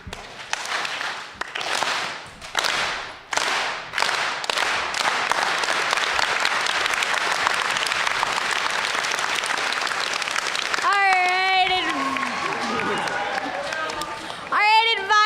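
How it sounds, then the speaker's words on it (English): Assembly audience giving a slow clap for their advisors at a general meeting, spaced claps gradually speeding into continuous applause from a large crowd, then cheers and whoops rising over it. "let's do a lovely slow clap led by Doug McClenahan"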